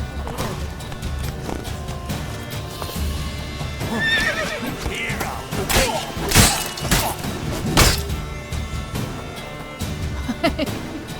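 A horse whinnies amid clattering hooves and sharp impacts in the video game The Witcher 3: Wild Hunt, loud and busy, with crashes and thuds breaking through the commotion.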